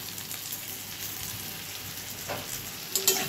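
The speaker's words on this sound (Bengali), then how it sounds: "এবারে ভেজে রাখা আলু আর ডিমগুলো দিয়ে দিব।" Fried potatoes and eggs are tipped into a pan of fried onions while chowmein is being cooked. A steady, close hissing sizzle runs throughout, and a couple of brief utensil clatters come at the end.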